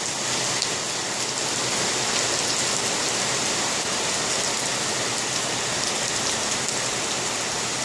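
Heavy rain pounds down steadily, a dense hiss of drops hitting surfaces all around, close and unbroken throughout.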